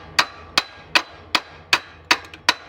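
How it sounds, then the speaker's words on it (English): A hammer taps alternator shims on a 2009 Silverado during an intake gasket job, seven sharp metallic knocks at a steady rhythm roughly every half second, close and clear over faint background noise. "Take your hammer and tap these out some."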